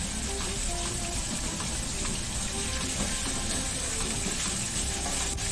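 Salmon frying in a little oil in a dry-heated wok over medium-high heat, a steady close hiss and sizzle with faint crackles, running continuously without talk.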